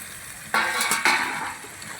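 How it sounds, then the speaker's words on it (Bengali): Fried paneer goes into a pan of oily, cooked-down spiced masala, producing a sudden sizzle, then a second burst with a spoon clink as the pieces are stirred, fading into a softer fry. "এবার ভেজে রাখা পনিরগুলো আমি দিয়ে দেব।"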